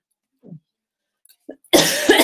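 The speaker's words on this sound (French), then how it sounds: "cette toux allergique, ça devient pénible" A couple of faint throat sounds, then a single loud, harsh allergy cough close to the microphone.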